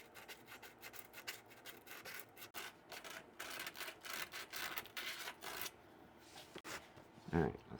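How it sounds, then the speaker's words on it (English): Sandpaper rubbing around a hole in a rear differential housing in a garage, rapid rhythmic scratchy strokes in bursts that pause briefly, close and moderately loud, with a short clunk near the end. "Sand all the way around the hole."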